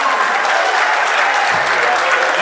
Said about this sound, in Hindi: वो भी ताली बजा रहे भाई साहब